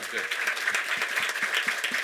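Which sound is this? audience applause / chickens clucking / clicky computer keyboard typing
audience applause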